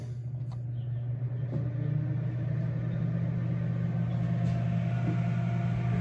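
Excalibur food dehydrator running after being switched on, a steady low motor hum with fan whir, close and constant, no talking.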